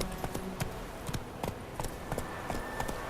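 Horse hooves clip-clopping at a steady trotting rhythm while riding in The Witcher 3, sharp repeated hoof strikes over a continuous ambient bed, no talking.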